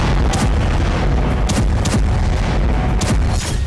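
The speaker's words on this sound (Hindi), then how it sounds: "एक के बाद एक कई मिसाइल धमाकों से करमान शहर दहल गया।" Missile explosions shake the city of Kerman in Iran, with several loud booms and sharp blasts arriving one after another over a constant heavy roar.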